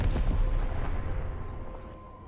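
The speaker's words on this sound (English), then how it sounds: "I can't hear crap with this AA gun." Anti-aircraft gun firing at planes in Call of Duty: WWII, a loud, close burst of heavy booming shots that fades into a rumbling tail, with no talk.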